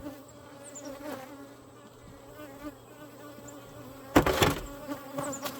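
Honeybees hum steadily from an open hive, a close continuous buzz with individual bees whining past, and a brief louder rustle and knock as frames are handled near the end.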